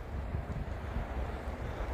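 Wind buffets an outdoor microphone beside a river, making a steady low rumble and rustle that fills the short stretch without a break and with no voices.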